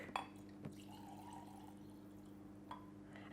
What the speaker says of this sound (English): Mix it up and then just pour it in your mug.